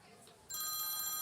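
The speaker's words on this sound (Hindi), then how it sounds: "वह फोन किसका बज रहा है ये?" A telephone starts ringing partway through with a bright, steady electronic trill that continues to the end, faint background murmur before it.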